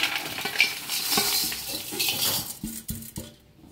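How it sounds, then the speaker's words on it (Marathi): Spiced masala sev being tossed and mixed in a metal pan, with scraping, clinking and rustling that runs steadily before thinning into a few sharp taps near the end, close and fairly loud with no talking. "जो मसाला बनवून घेतलाय त्याला असं एकदम मिक्स करून घेऊया आपण"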